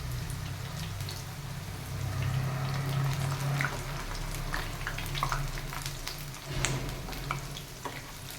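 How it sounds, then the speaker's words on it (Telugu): Spinach pakoda fritters frying in hot oil, a steady close crackle and sizzle with scattered bright pops and a low continuous hum underneath, no voices. "ఆయిల్ హీట్ అయ్యాక ఫ్రై చేసుకుందాం"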